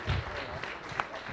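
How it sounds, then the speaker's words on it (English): Applause from a church congregation at a Sunday morning service, clapping for the panelists in a short, moderately loud burst with a murmur of voices beneath it. "Let's give our panelists a big round of applause."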